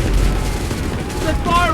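Continuous gunfire and booming blasts from a battle in Assassin's Creed III, loud rumbling volleys with faint shouts in the background.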